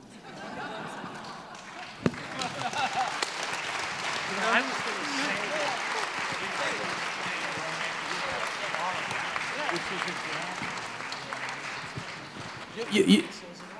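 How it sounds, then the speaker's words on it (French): Audience applause at a public meeting with an author during a book festival: sustained clapping for over ten seconds that swells and fades, with a voice speaking over it near the end. "Applaudissez James Ellroy"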